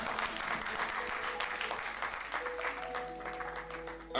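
A church congregation applauds loudly, a dense, steady wash of clapping from many hands that fills the whole space without a break.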